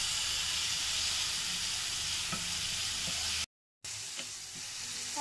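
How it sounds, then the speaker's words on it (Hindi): Chicken pieces with spices sizzling on a hot tawa for tawa boti, a steady frying hiss with a few scraping stirs, briefly cut to silence near the end, no voices. "अब मसालों को हम अच्छे से मिक्स कर लेंगे।"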